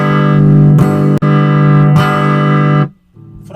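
Electric guitar played through a passive single-coil EMG 7K pickup on a GF Tele-style guitar, a sustained bright chord rung out twice, then cut off into a short quieter note.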